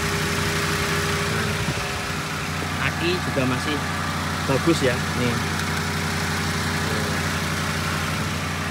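A 2006 Toyota Avanza G VVTi with manual transmission idles steadily up close, its engine giving an even, unbroken hum. Someone talks over it partway through.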